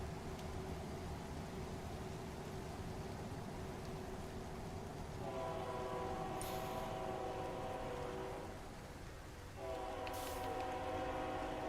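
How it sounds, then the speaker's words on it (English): A train in the video game ATS rumbles steadily past with a constant low roar, and its horn sounds twice in long sustained blasts, fairly near and loud. "Oh, there's the train."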